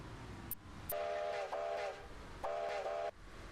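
A steam locomotive whistle in the Roblox railway game sounds two long tonal blasts blowing for a crossing, moderately loud and slightly distant, with faint clicks before the first blast.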